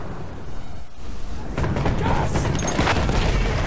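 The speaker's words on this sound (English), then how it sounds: "Oh, hand grenade. And it got him." A hand grenade detonates in the World War I shooter Battlefield 1, a deep booming blast with rumbling debris that follows a stretch of distant battle noise, loud and close.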